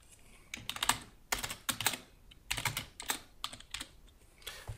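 Clattering keystrokes on a computer keyboard as a label is typed into a design program, several quick bursts of close clicks separated by short gaps, with no one talking.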